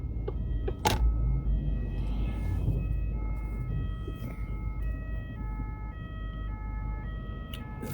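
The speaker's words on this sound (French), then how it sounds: "c'est les ambulances" Ambulance sirens wail steadily in the distance, a repeating two-tone pattern over a low traffic rumble, with a brief thump near the start.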